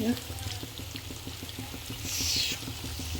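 Fish fry frying in a pan in a village kitchen, a steady crackling sizzle with faint regular ticking and a brighter hiss swelling near the end, close by with no voices.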